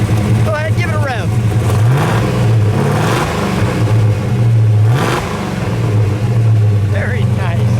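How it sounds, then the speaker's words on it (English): A 1966 Dodge Coronet's 426 Hemi V8 engine revs up and falls back in several deep surges, loud, throaty and close, while people talk over the roar. "Go ahead, give it a rev."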